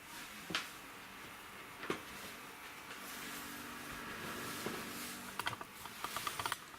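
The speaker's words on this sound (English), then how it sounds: "I'm going to plug those noisy fans in right away" Noisy fans run inside a tiny house as the heat comes on for the season: a quiet, steady whooshing drone broken by scattered clicks and light handling knocks.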